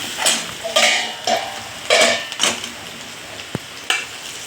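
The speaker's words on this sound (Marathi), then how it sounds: "हे बघा, आपलं तेल गरम झालेलं आहे। याच्यात टाकूया जिरं, लसूण, मिरची पावडर आणि सर्व मिक्स करूया।" Cumin, garlic and chili powder hit hot oil for a whole masoor curry and are stirred, giving close bursts of sizzle and scraping strokes at an uneven rhythm, with a sharp utensil tap near the end, no voices.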